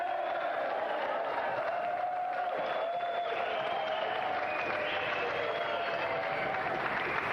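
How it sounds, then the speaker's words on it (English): A TV games show studio audience applauds and cheers its champion, a steady broadband wash of clapping with some whoops, sustained at even loudness throughout. "And now a round of applause for our champion, Chevron Hart!"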